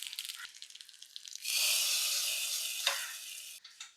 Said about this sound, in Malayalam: ഇച്ചിരി എണ്ണ ഒഴിച്ചു കൊടുക്കാവേ ലേശം കടുകിട്ട് കൊടുക്കും കുറച്ച് കറിവേപ്പില വറ്റൽമുളക്